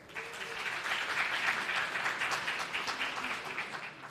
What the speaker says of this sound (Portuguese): Palmas para ele logo, gente.